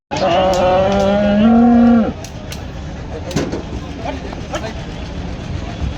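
A cow lets out a long, loud moo close by at a cattle market, followed by a busy outdoor hubbub of voices and clatter.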